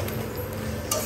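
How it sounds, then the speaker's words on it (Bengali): Asian swamp eel braising in a pan gives off a steady soft sizzle as the liquid cooks down, with faint scraping or stirring ticks and one brighter clink near the end. "মাছ কুচিয়া মাছ কষানো হচ্ছে, পানি একটু একটু শুকিয়ে যাচ্ছে।"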